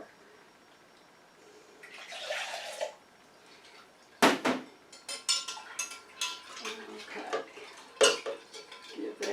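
A utensil scrapes and clinks against a metal pan while stirring greasy magnesium oil lotion, with sharp close taps and scraping strokes in an irregular rhythm.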